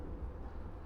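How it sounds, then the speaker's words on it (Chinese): A freight train hauling iron ore rolls past at night in Miyi County, heard as a faint, low, continuous rumble with no voices. "听那个声音嘛，就是火车的声音"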